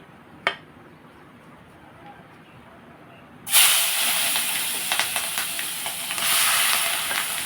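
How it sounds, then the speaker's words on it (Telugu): Onions and green chillies drop into hot oil, first a brief clink, then a sudden loud hissing sizzle that keeps going strongly for several seconds. "మనం ఇప్పుడు ఉల్లిపాయలు పచ్చిమిరపకాయలు కూడా మనం వేసేసుకుందాం అండి"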